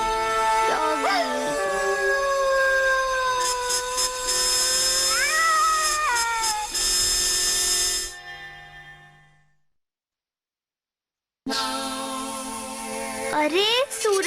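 Cartoon cat and dog cries from a Hindi-dubbed Doraemon episode: wavering, tonal yowls and howls rise and bend, then fade into several seconds of silence before another burst of animal cries returns.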